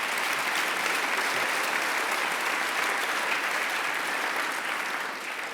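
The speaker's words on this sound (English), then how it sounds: "your round of applause is thoroughly well deserved" Sustained applause from an audience at a political talk on Brexit, a dense, even roar of clapping that holds strong throughout and eases only slightly at the end.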